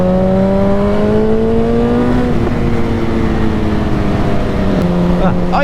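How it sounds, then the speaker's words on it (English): A Kawasaki Z800 motorcycle engine revs and pulls away, its droning tone rising then easing off, loud and close, with a brief voice near the end. "I love riding my motorcycle."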